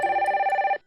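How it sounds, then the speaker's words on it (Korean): A telephone rings in one short, steady electronic trill that pulses rapidly for under a second before cutting off, loud and close with no voices. "이럴 때는 캐리한테 한번 전화를 해봐야겠다"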